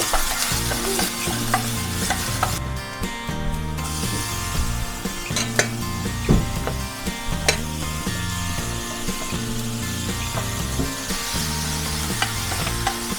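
Tempering for a vegetarian Tamil feast fries and crackles in a pan while being stirred, with steady sizzle under repeated scraping and clinking of the spoon against metal, close and fairly loud throughout.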